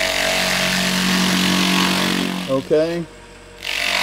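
Wood lathe spins a spindle as a skew chisel cuts it, a steady broadband whir and rub filling most of the span before cutting off, with a brief spoken word near the end.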